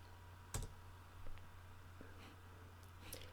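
Sparse keystrokes on a computer keyboard during programming work, a few faint separate clicks with quiet gaps and no talking.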